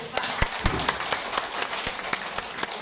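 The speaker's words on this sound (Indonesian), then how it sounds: "Tepuk tangan." Audience clapping at a school curriculum meeting, a lively round of many hands nearby with distinct sharp claps standing out in an uneven patter.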